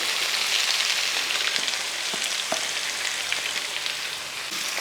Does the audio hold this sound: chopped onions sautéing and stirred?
yes